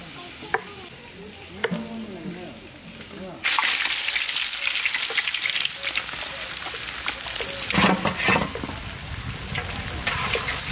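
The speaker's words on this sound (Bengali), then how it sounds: "কাতলা মাছ ভাজতেছে" Katla fish fries in hot oil while a village meal is cooked: quiet clinks and handling give way to a sudden loud, sustained sizzle, with scraping stirs and spatters breaking through.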